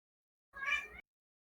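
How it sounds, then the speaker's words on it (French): A cat gives one short, clear meow, close and alone against silence. "Quoi, mon chat?"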